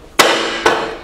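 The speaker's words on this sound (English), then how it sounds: "Tap it into place." Two sharp taps knocking an aluminium plank into place in a Rhino-Rack alloy tray, each a crisp metallic knock with a brief ringing decay, close and isolated.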